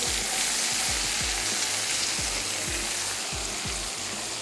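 Red chili powder sizzles in hot tempered dal, a steady loud frying hiss with repeated sharp crackles and pops throughout, no voices.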